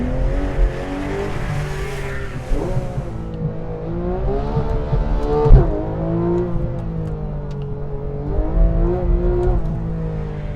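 A 2013 Porsche 911 GT3 engine revs and climbs through gears, loud and close, with rising and falling pitch sweeps and a brief squeal.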